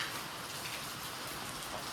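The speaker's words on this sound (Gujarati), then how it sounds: "અત્યારે જો વરસાદ બહુ શરૂ થઈ ગયો છે" Heavy rain pours steadily in a village, a dense even hiss of drops on surfaces, close and unbroken.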